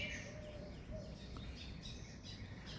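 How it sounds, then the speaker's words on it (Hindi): Many birds chirp in a jamun tree, their faint, scattered calls drifting over a steady low outdoor rumble with no talking. "ये देखिए, चिड़ियों की आवाज़ खूब सारी गूंज रही।"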